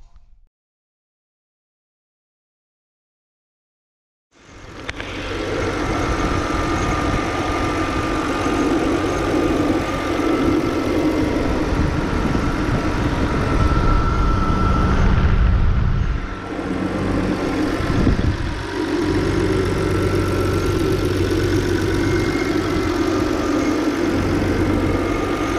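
A BMW E60 with an N52 engine fires up after a few seconds of silence and settles into a loud, steady idle, close by, with a slight dip in the drone midway.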